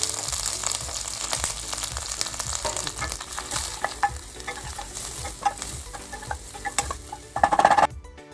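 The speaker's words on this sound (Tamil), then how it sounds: "நம்ம வந்து ஒரு வெங்காயத்தை ஆட் பண்ணி நல்லா ஃப்ரை பண்ண" Onion frying in hot oil with mustard seeds and curry leaves for a mutton kulambu, a steady crackling sizzle broken by repeated stirring scrapes, growing louder and busier toward the end.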